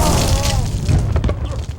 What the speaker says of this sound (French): Explosion de lumière.